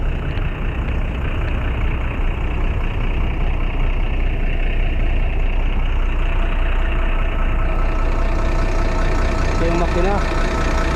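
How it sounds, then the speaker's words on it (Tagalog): Parked bus at a transport terminal idling with a steady low engine rumble, loud and close, continuous throughout with faint background activity. "Ito umaandar itong bus na ito nakabukas."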